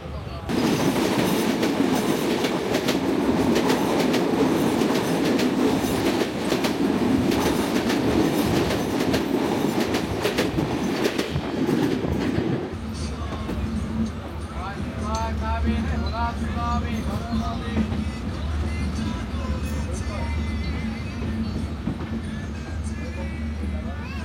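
A train rolls past at the Uthli station crossing, loud and close with steady clattering wheels for about twelve seconds, then fades to a lower rumble and softer rail noise as it moves away.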